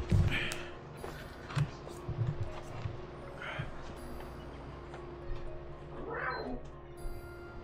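A cat yowls several times indoors, faint drawn-out cries spread across the stretch over a low steady hum, and a person seems to imitate the cries.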